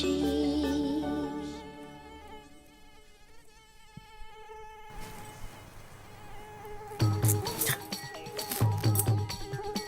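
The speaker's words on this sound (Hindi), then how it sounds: "यहाँ रूम में मच्छर आ गया है" A mosquito buzzes in a room, a thin whining drone that wavers near and far across several seconds, later joined by clinking and other sounds.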